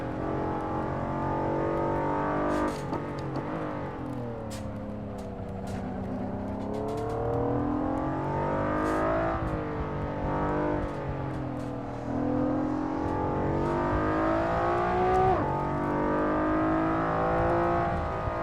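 Honda NSX GT2 race car in the Assetto Corsa racing game, its engine revving hard through repeated upshifts and downshifts, a loud continuous howl rising and dropping in pitch over many seconds.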